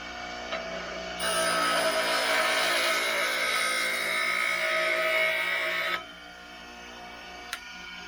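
A grinding wheel being dressed with a Powertec diamond dresser, producing a steady abrasive hiss and whine for about five seconds that begins and stops abruptly against a motor hum.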